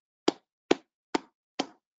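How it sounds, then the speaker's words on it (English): Four deep, hollow cupped-palm hand claps, a bass clap, land evenly about half a second apart, each a close, dry thump with a short decay into silence. "And bass hand clap, which is cupped palms."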